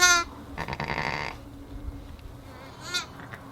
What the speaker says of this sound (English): so what you're hearing is lambs from last year at Allen Farm.